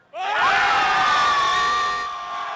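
A high school student section at a North Pocono football game erupts in a loud, sustained roar of cheering and screaming that rises sharply, holds for about two seconds, then eases off.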